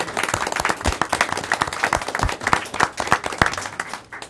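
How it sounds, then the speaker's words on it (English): Clapping from a modest group at a city council meeting: distinct, uneven individual claps close by, loud and continuous for several seconds. "let us recognize you and give you a round of applause"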